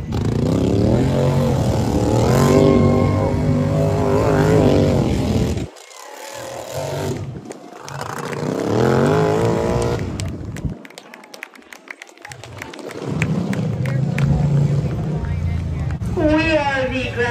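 Lawn tractor engines rev and drone loudly at a lawn tractor racing club event, rising and falling as machines pass, with people talking over the noise.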